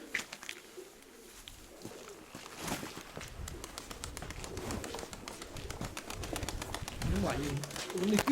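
Several pigeons coo in a keeper's loft on a calm, windless day, soft throaty calls repeating near and far amid steady rustling and bird activity, with faint background noise throughout.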